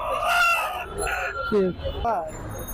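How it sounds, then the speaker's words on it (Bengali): A rooster at a busy chicken market crows loudly and close by in a few drawn-out calls, with other fowl clucking and people talking around it. "আর এটা সিঙ্গেল মোরগ"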